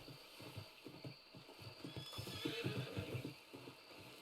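A horse named Moon Shadow in Red Dead Redemption roleplay neighs loudly after being called, its whinny rising over a steady clip-clop of hooves close by.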